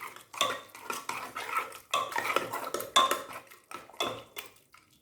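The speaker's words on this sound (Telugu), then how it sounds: "గరిటెతో ఇలా మెదుపుకుంటే మనకు సరిపోతుందన్నమాట." A metal ladle mashes cooked amaranth leaves in a pot, giving repeated bright clinks and scraping knocks in an uneven rhythm of strokes, close and fairly loud, with no voices.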